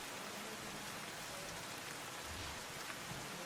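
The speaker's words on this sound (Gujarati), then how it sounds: "તાપી જિલ્લામાં વહેલી સવારથી ધોધમાર વરસાદ વરસી રહ્યો છે" Heavy rain pours steadily over Tapi district in Gujarat, a dense, even hiss with no pauses and no voices.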